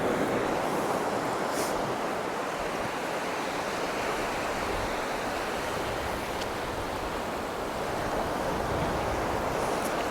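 Sea waves washing in at the water's edge on Hornsea beach, a continuous loud roar of surf mixed with wind buffeting the microphone, with no one speaking.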